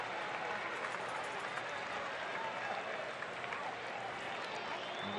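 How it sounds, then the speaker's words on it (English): Steady applause and crowd noise from a full stadium salute a Tampa Bay Rowdies soccer player, a continuous roar of distant clapping that stays even across the stretch. "And the crowd appreciates his effort as always."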